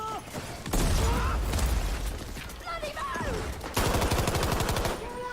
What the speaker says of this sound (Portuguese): Olha o som do tiro.